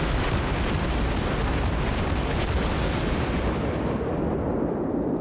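Naval guns fire in the World of Warships video game, a dense, continuous roar of heavy booms in rapid succession, loud and sustained throughout before thinning slightly at the end.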